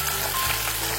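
A gourami fish body fries in hot oil, a dense close sizzle and crackle that stays loud and continuous throughout the short stretch.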